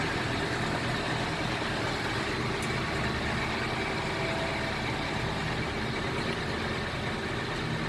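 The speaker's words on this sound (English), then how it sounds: "And there's the starboard engine starting right up." A 65-foot yacht's starboard engine starts and runs at a steady idle, a continuous low rumble with a faint mechanical chatter throughout.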